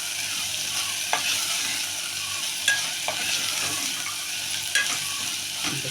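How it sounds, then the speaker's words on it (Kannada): Fenugreek rice (menthya bath) cooks in a pan with a soft, continuous sizzle and a few sharp spatula clinks and scrapes as it is stirred, close and moderately loud, with no one speaking. "ಸ್ವಲ್ಪ ಫ್ರೈ ಆಗೋದು"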